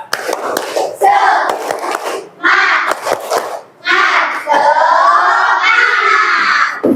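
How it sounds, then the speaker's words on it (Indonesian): Classroom children perform the 'tepuk semangat' spirit clap chant, shouting rhythmic chanted phrases in unison punctuated by bursts of group clapping, loud and close, in several energetic segments separated by short pauses. "Tepuk semangat."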